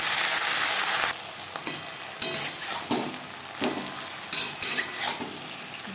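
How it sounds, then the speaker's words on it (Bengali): Okra with tempering spices sizzles loudly in a pan and then gets stirred. The hiss is broken by repeated scraping strokes and light clinks of the utensil, heard up close with no voices. "ফোড়নের সাথে ভেন্ডি বেশ ভালো করে মিক্স করে দেবো"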